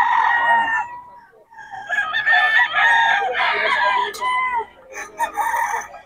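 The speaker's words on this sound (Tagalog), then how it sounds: "Solid mga idol ng mga manok ni Boss Batang." Several farm roosters crow in overlapping calls, loud and close, with some clucking between the crows and no talking.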